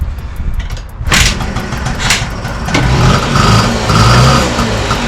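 A Honda car engine with no ignition and severed wires starts up with a thump after a brief lull, then runs loudly and steadily nearby with rough idling rumble.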